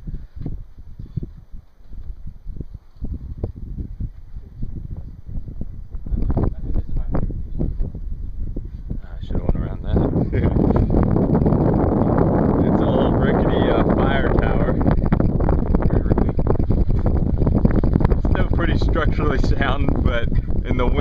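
Strong wind buffets the microphone at the top of Shuckstack Tower, a mountain lookout in the Great Smoky Mountains, growing louder and steadier after the first few seconds while voices talk nearby.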